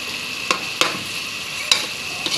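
Chicken liver and gizzards sauté in a pan with radish and carrots, a steady sizzle running underneath while a utensil stirs with a few sharp scrapes and clacks scattered across the moment.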